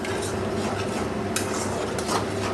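Food being stirred and sautéed in a pan in a Bengali home kitchen, with steady scraping of a spoon against the pan and faint clinks of utensils, close and continuous, with no talk.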